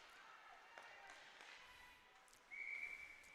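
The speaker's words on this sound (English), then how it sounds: "Half sides is going to be the whistle." A referee's whistle at a youth ice hockey game gives a single sharp, sustained blast near the end, heard over low arena murmur and faint background noise.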